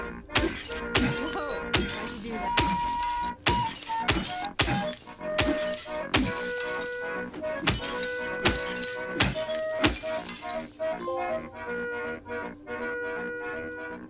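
Windows shatter one after another in the Silent Hill 2 Remake video game, with over a dozen sharp glass smashes and thunking blows in an uneven rhythm, backed by faint ringing tones.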